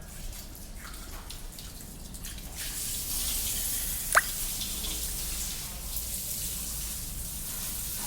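Water runs steadily while floors of a building are washed down, a continuous wet wash with one sharp drip or splash standing out midway; no talk.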